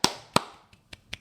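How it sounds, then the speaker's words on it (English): Several sharp hand claps or pops, two louder close ones followed by three quicker, fainter snaps, each alone in a quiet room. "can you clap your own hands?"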